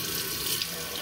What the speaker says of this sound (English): I'll rinse it off with the sink.